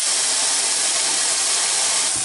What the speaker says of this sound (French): On va juste le faire bien saisir, pas cuire maintenant, juste bien saisir.